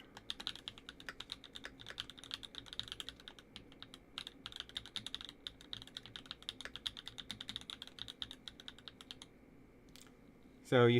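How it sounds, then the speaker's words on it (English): Steady, close typing on a GMMK 3 keyboard fitted with Mint Smoothie switches and GMK ABS keycaps: rapid crisp clacks for about nine seconds, then a pause and a brief louder noise at the end. "the mint smoothies are different. They are higher pitched than the standard smoothies. And so you have"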